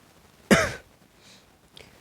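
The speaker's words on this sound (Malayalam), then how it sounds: "ചെറിയ ചുമ ഉണ്ട്, അതുകൊണ്ട് നിങ്ങളൊന്ന് ക്ഷമിക്ക്." A single short, close cough or throat clearing from a Minecraft player, followed by faint quiet noises and no speech.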